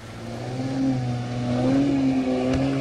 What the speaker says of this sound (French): Il mit le moteur en marche et le bateau s'élança sur les flots.